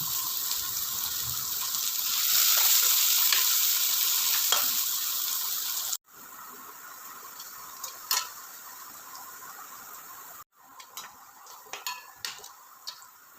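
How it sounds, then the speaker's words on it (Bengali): Dried chilli, chopped ginger and garlic fry in hot oil in a pan, giving a steady bright sizzle that stays loud throughout, with occasional ticks and stirring scrapes and two brief dropouts. "আদা আর রসুন কুচিগুলো ভাজা ভাজা হয়ে গেছে"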